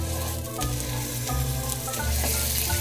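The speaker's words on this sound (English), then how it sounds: "Medium heat, frying pan. Olive oil in." Lamb frying in olive oil in a frying pan over medium heat, a steady close sizzle with a faint hum underneath and no talking.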